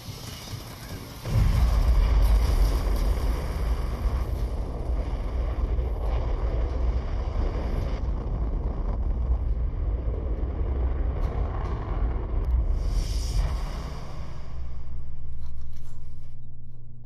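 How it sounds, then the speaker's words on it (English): An engine test firing in the Fallout 4 video game starts with a sudden loud blast, then a heavy, roaring rumble that holds steady for about twelve seconds before fading into a softer, swelling whoosh. "Engine firing."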